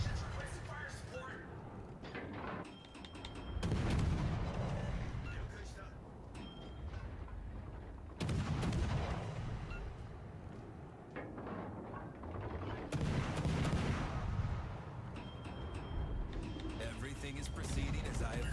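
Naval guns fire in a World of Warships: Legends battle, with several heavy booms and thuds spaced across the clip under game chatter and radio-style voices.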